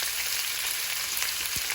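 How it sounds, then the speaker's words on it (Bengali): Onions added to garlic frying in oil give a steady, dense hiss up close that lasts the whole short moment, with no voices. "এখন আমি পেঁয়াজগুলো দিয়ে দিই"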